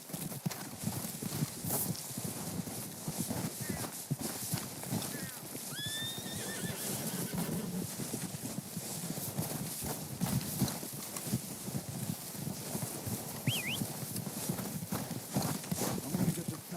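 In the video game Red Dead Redemption 2, a horse whinnies a couple of times over steady clip-clopping hooves, set against a dense, noisy outdoor background.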